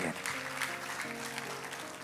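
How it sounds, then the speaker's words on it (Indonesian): A church congregation breaks into lively applause, a brief, soft patter of many hands under a voice and sustained tones. "Tepuk tangannya yang meriah buat Tuhan"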